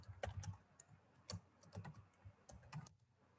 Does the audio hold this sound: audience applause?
no